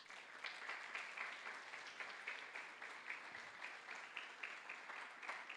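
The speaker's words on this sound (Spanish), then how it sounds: "¿qué tal si le damos un aplauso a Dios?" Sustained applause from a church congregation, a steady dense patter of many hands at moderate distance, fairly quiet and continuous with no one speaking over it.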